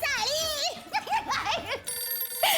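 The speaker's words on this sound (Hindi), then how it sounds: "फोन आया।" A telephone in a home rings with a bright, repeated warbling tone in quick pulses, mixed with lively voices and someone talking over it.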